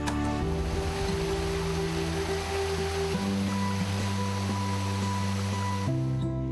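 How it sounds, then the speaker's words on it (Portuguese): Cachoeira do Lagar waterfall on a steep, slippery trail, a continuous rushing roar of falling water that stays loud and steady, with a faint steady hum running underneath. "como por exemplo aqui, olha, a Cachoeira do Lagar"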